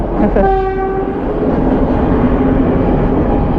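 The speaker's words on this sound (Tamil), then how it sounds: "பாருங்களேன் ட்ரெயின் வரப்போது" A loud train horn blares briefly, then the steady rumble and clatter of a train rolling past close by at a railway crossing fills the rest.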